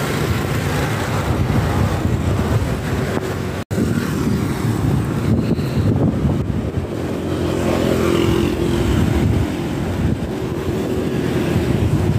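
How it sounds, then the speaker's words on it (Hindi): Strong, steady wind buffets the microphone during a bicycle ride in a continuous loud roar, with a brief dropout partway through; a faint engine-like hum sits underneath. "ये आप देख सकते हैं कितनी तेज़ हवा चल रही है"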